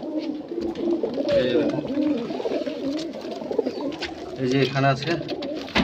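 Madrasi highflyer pigeons coo in soft, repeated throaty calls among a collection of birds, while someone talks over them at close range.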